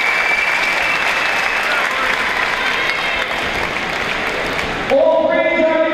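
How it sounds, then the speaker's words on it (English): Loud, continuous crowd applause and cheering at the Cage Wars 34 MMA fight after a decision, then a sudden cut to a tonal sting with a voice at the very end. "Definitely a rewarding of a round of applause from the crowd."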